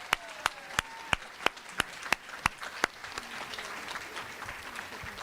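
Sharp, evenly spaced claps ring out about ten times in a steady rhythm over a soft bed of crowd applause at an awards event, then the individual claps stop and the general clapping continues quietly.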